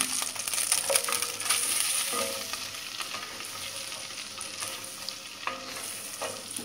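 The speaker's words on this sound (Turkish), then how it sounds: "yağım iyice kızdı" Butter with a splash of olive oil heats and sizzles in a pan for Turkish buttered walnut noodles, a steady close frying hiss with light scraping and clinks, no talking.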